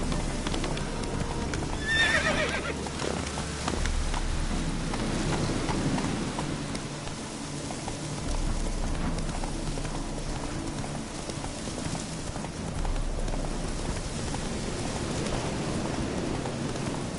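A horse gallops and neighs in The Witcher 3, rapid hoofbeats pounding steadily throughout with a loud whinny near the start, set against a patter like rain and ambient game sound.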